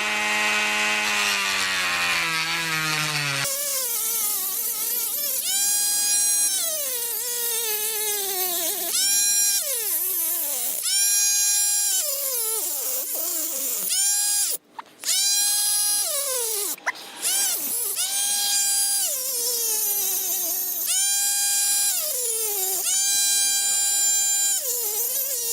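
A small power tool cuts into a plastic vehicle interior panel to fit an OEM 120V outlet on a Rav4 Prime. It whines in repeated rising and falling bursts with a few short stops, close and steady.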